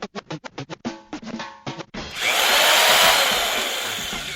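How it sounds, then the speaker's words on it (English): A power drill, used for home improvement work, starts after a couple of seconds of short choppy bursts and then whirs loudly and steadily close by, tapering only slightly toward the end. "Wait, is that a drill?"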